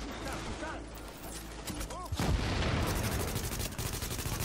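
Gunfire from the video game The Division pops in sharp bursts against a dense mix of action sounds, while players talk over the shooting.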